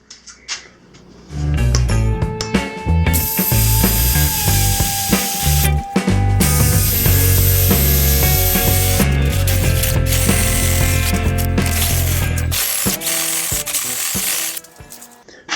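A loud steady drill grinds through angle iron, running continuously for most of the stretch with a slight pitch dip as the bit bites, then stopping.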